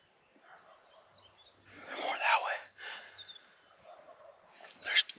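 Wild turkeys gobble at dawn off the roost on public land during an opening-day hunt, a faint, distant rattling gobble rising over quiet morning ambience, with a louder burst near the end.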